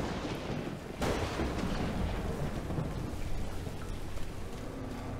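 Thunder rumbles through steady heavy rain in the video game Sea of Solitude, with one sharp crack near the start rolling into a long, dense low roar that fills the whole stretch.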